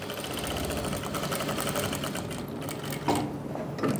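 An electric sewing machine runs steadily, stitching right alongside buckram with a fast continuous whirring rattle and a few brief clicks near the end.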